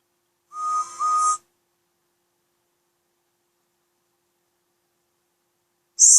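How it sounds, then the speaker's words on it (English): A train engine whistle, a short two-part tonal blast near the start, followed by silence and then another blast cut off at the very end. "Just then, he heard a whistle."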